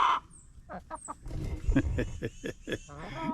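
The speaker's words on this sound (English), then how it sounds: "my chicken's just talking to me this morning" Backyard chickens in a pen cluck and murmur on a morning, a steady run of soft calls blended with a person talking throughout.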